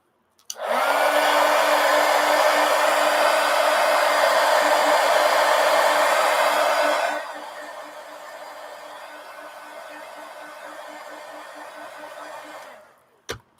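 A hair dryer blows loud and steady over an art journal page, drops to a softer, lower setting partway through, then cuts off near the end.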